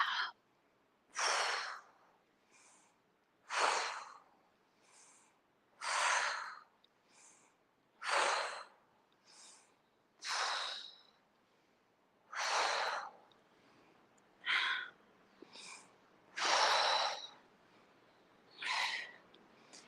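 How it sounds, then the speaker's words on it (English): Slow, deliberate breathing during a tai chi class, with a steady series of about a dozen audible breaths in and out, close and clear, evenly spaced with short pauses between them and no talking. "Inhale, exhale."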